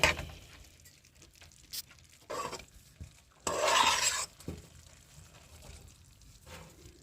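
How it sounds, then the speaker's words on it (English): A spoon stirring seasonings in a cooking pot, a few short scraping and rubbing strokes with one longer gritty swirl, close and moderately quiet, no talk. "We're going to give that a good stir"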